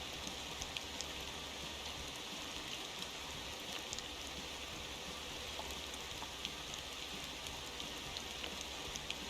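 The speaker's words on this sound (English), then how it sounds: "And the rain is certainly not helping the situation at all." In the Motor Town truck-driving game, rain falls on a delivery truck, a soft, continuous hiss with scattered faint drop ticks and no voices.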